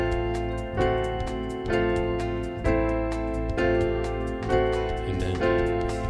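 Piano playing a theme at full speed, sustained chords with a steady pulse and a repeating melodic figure, close and clear with no voices.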